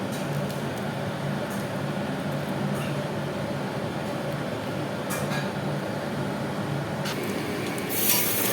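Stone-ground spice paste for black pepper chicken hits hot oil, making a steady broad hissing sizzle with a few sharper spatters near the end. No one speaks.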